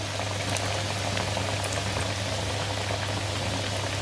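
Bread pakora deep-frying in hot oil over a low flame, a steady dense bubbling and crackling that holds evenly throughout, close and fairly loud, with no talk.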